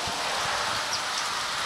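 Rain falls as a steady hiss of close, fine patter, even and unbroken, with faint low thumps beneath.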